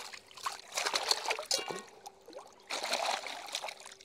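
Dam water trickles and splashes while mutton offal is washed by hand, in two faint, uneven bursts with a quiet pause between them.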